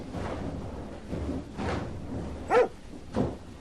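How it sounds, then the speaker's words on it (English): Cartoon dog barks in a series of short, separate woofs spaced about half a second apart, moderately loud, with one sharper bark standing out near the end. "dog."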